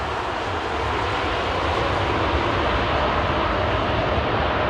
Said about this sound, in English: British Airways very conservative with the use of their reverse thrusters